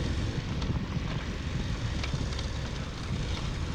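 A KTM 1290 Super Adventure R motorcycle on the rough dirt Schnebley Hill Road near Sedona, a steady loud engine roar with broadband wind and rumble and faint clanks from the bouncing bike.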